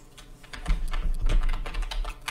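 Fingers tap out a short entry on a computer keyboard, a quick run of close, crisp clicks with uneven spacing, heard alone.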